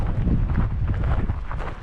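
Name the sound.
wind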